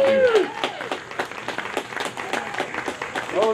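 Audience applause for the first-place winner of a songwriting contest, announced on stage at a show in Bell Buckle: steady clapping from a small crowd for a few seconds, with a voice briefly audible at the start and end.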